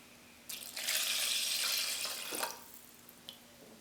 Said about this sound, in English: you want to add 300 grams of water